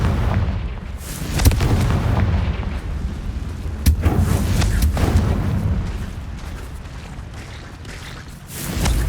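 A Confringo fire-blast spell explodes in the Hogwarts Legacy video game, loud booming bursts in a rumbling battle mix, with sharp impacts near the start and middle over continuous low roar.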